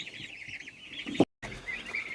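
Young white turkey chicks peep and chirp continuously in high, thin calls, close by. A brief knock sounds near the middle, followed by a short gap of silence before the chirping resumes.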